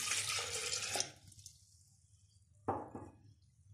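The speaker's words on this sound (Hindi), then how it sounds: "सबसे पहले जग में हम डालेंगे दूध" Milk pours into a jug for a banana and date milkshake in a home kitchen: a splashy liquid stream for about a second, then quiet, then a second shorter pour, with no talking.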